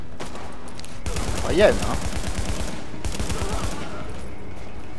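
Gunfire in the video game Tom Clancy's The Division, a dense rapid rattle of shots with one louder burst near the middle, continuing under someone speaking in French over game sounds.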